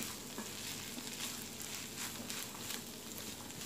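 Minced meat and boiled green lentils, seasoned with salt and spices, sizzle and fry in a pan, a quiet steady crackle with light stirring and no talk.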